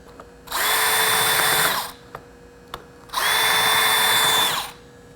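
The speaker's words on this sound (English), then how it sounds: "I will chamfer the backs of these holes to give me a little bit of a cheat" A power tool chamfers the backs of holes in a steel mold plate, two loud whirring bursts of about a second and a half each, separated by a short pause with faint clicks, close up and no talk.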